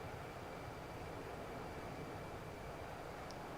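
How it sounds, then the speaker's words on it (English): Steady, dense roar of a Concorde airliner's engines in Microsoft Flight Simulator X, a constant broadband rumble with no variation and no talk. "Airplane go brrr"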